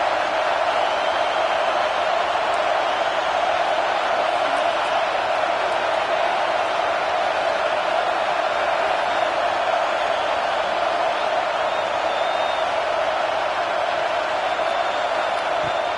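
Football stadium crowd roaring to spur on the defense on a fourth-down play: a dense, steady wall of cheering and shouting that holds at the same level throughout, with no breaks.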